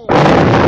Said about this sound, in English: Fire in the hole, Fernando.